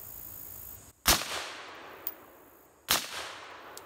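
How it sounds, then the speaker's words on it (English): Two sharp pistol shots fired at a target ten yards away, spaced about two seconds apart, each a loud broadband crack with a short ringing tail, outdoors with no talking. "It's gonna be shots at 10 yards."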